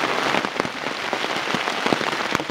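Steady rain patters down through a forest, dense and continuous with scattered sharper drops striking leaves and ground, fairly close and with no voices.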